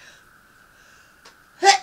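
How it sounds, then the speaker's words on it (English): A single short, sharp sneeze bursts out near the end, loud and close, after a quiet stretch with a faint steady hum. "Oh, I'm going to sneeze."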